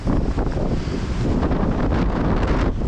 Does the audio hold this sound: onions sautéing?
no